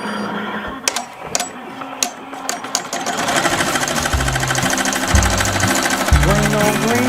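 An embroidery machine starts stitching a Grinch design onto a Christmas sweater, opening with several sharp clicks and taps before settling into a fast, steady mechanical chatter with a low rhythmic thumping underneath.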